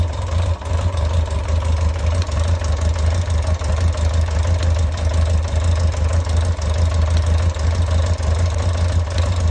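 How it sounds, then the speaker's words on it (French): A carbureted motorcycle engine idles steadily on a garage floor, a loud, low, even rumble with a fine rattling texture, credited to the primary chain, running alone and unbroken throughout. "ce qu'on entend, c'est la chaîne primaire dans le moteur."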